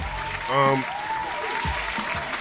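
Brief clapping in a casual morning talk-show studio, a few hands patting under a voice that rises and fades at the start, with the claps loudest near the middle and end.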